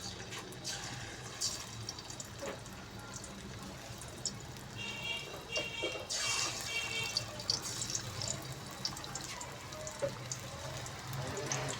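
Moong dal pakoda batter is dropped spoonful by spoonful into hot ghee, giving a crackling, bubbling fry with brief sputtering bursts, moderately close, while someone talks over it.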